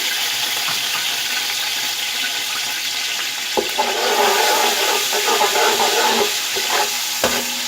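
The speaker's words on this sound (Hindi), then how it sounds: "अब ऑयल में जो है मैं अदरक डाल दूँगी, पिसा हुआ लहसुन" Ginger and crushed garlic frying in hot oil with a steady, close sizzle that swells partway through, broken by a couple of sharp clicks from stirring.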